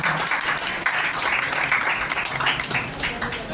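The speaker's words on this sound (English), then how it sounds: "Give him a big applause" Audience applause for a college vice principal taking the dais at a campus job fair, a steady dense wash of clapping filling the hall, with some voices mixed in.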